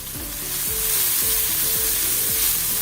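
Chopped green chili and a small chopped onion sautéing in a pan, a steady close sizzle with repeated low scraping strokes of stirring, no voices.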